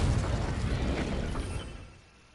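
A Confringo blasting spell explodes in Hogwarts Legacy, a rumbling burst that starts loud and close, then fades away over about two seconds.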